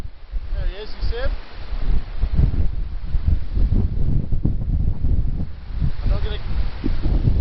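Strong gusts buffet the open air on a coastal cliff, loud rumbling wind noise surging throughout while a voice speaks faintly beneath it.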